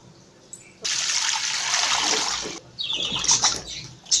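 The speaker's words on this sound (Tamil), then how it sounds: "சிக்கனை க்ளீன் பண்ணி வச்சு வாஷ் பண்ணலாம்." Water runs steadily from a tap over raw chicken being washed in a kitchen, a broad close rush for a couple of seconds, then stops and gives way to lighter splashing and handling noises.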